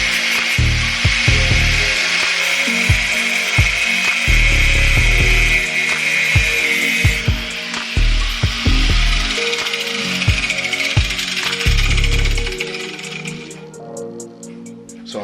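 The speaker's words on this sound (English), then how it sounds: "we're just gonna go ahead and cut it off right at these lines" A loud, steady power-tool whine grinds through a car steering wheel as it is cut down, with repeated bursts and pauses over about fifteen seconds and no talking.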